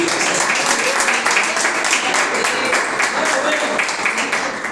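A church congregation claps in a steady, dense wash of applause that fills a large room, with a voice speaking or calling out over it and a slight fade at the close.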